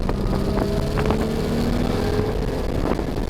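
Car driving on a track toward a corkscrew, a loud steady engine drone with rumble and wind buffeting throughout, close to the microphone.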